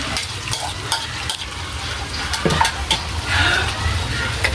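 Mung beans stirred and frying in a pan for a sautéed monggo dish with malunggay, giving a steady close sizzle with scraping stir strokes and occasional clinks throughout.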